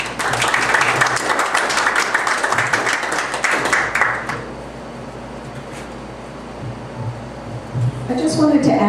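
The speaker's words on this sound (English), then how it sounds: "hold your applause after each candidate speaks" Audience applause at a political candidates' debate in Pahrump, loud sustained clapping for about four seconds that fades out, followed by a quieter room hum and a voice starting to speak.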